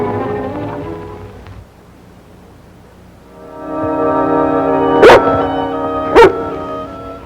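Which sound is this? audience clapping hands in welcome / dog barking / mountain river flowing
dog barking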